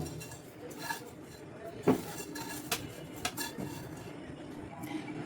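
Fried vermicelli being scooped with a metal utensil into a pan of more vermicelli, giving soft scraping and a few sharp clinks of metal on cookware, close by and moderately quiet.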